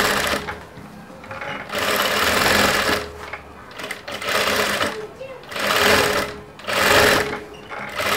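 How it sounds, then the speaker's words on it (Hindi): Sewing machine stitching blouse fabric in several bursts of fast, even whirring and needle chatter, close and loud, with short pauses between runs and someone talking over parts of it. "तो अब हम इसे बराबर करके यहाँ से सिलाई लगा लेते हैं।"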